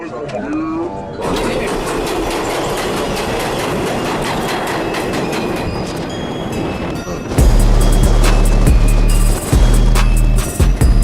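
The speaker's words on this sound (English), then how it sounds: "There is a Manhattan-bound local 7 train" A Manhattan-bound local 7 subway train passes close by, a loud continuous roar with rapid clickety-clack of wheels over rail joints, growing heavier and deeper toward the end.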